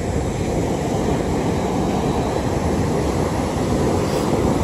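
Ocean surf at the water's edge on the Asilomar shore, a continuous loud broadband rush with steady low roar and wind, no distinct individual breakers or talking.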